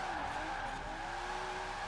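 A Nissan Skyline R34 drifts in Forza Horizon 4, its tires squealing in a steady, sustained screech over a continuous engine drone, loud and unbroken throughout.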